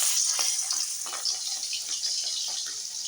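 Fish going into hot oil in a home kitchen while green eggplant curry and rice cook, a steady bright hiss and crackle of frying with small popping spatters, close and fairly quiet.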